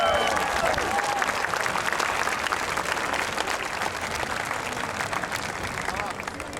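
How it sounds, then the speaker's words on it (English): A large crowd at the Laguna Hills High School Class of 2016 graduation ceremony applauds continuously and loudly, a dense wash of clapping with some cheering. "I'd like to extend that round of applause to our orchestra."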